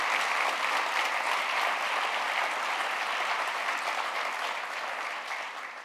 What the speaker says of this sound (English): Mr. Vitus Kujakitsok, and Ms. Okalik Igia a big applause.